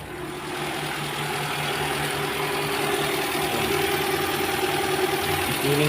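A 2001 Ford Lynx engine settles into a steady idle just after starting, a close, continuous rumble with a faint knocking rhythm that holds level throughout.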